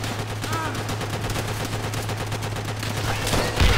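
An M1 rifle fitted with a grenade launcher firing in Call of Duty: World at War, heard as a dense, continuous wash of battlefield gunfire under a steady low hum, with a louder thump near the end.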